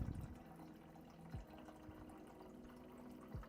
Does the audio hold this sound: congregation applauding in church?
no